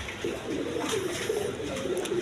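Pigeons coo softly in a short, steady burble of low throaty calls, close by and unbroken, with no voices.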